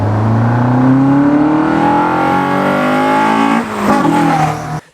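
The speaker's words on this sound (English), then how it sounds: "this car has got twin throttle bodies, and the noise it makes is, it is divine." A Caterham Super Seven 1600 with a 1.6-litre Ford Sigma engine and twin throttle bodies revs loud and close, its tone climbing steadily for several seconds before dipping and rising again, then cutting off.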